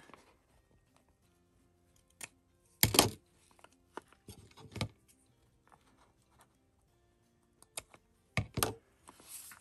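Scissors snip through book pages in a few short, crisp bursts separated by quiet pauses, close by, while making paper pockets.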